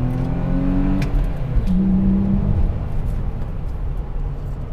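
A BMW X5 accelerates hard, its engine rising in a close, loud rumble whose pitch climbs through a gear change over a few seconds, with no talking.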